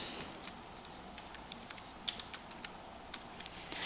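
Quick, light clicks from typing on a computer keyboard, a steady patter of close keystrokes with small irregular pauses and no talk.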